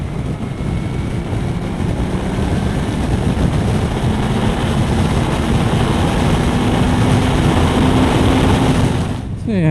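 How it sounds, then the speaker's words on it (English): A Honda CBF 1000 motorcycle accelerating hard in top gear from about 60 mph, a loud rising engine drone layered with heavy wind rush, with the pitch climbing steadily until it cuts off abruptly at the end. "Let's see what happens if we open the throttle at 60 miles an hour in top gear."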